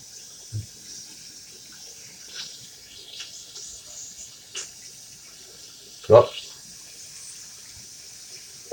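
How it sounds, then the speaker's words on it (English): Tap water splashes and gushes in a sink while a Bissell vacuum filter is being washed with soap, a faint steady trickle with a few sharper splashes and one loud slosh near the end. "I'm adding some splashing water"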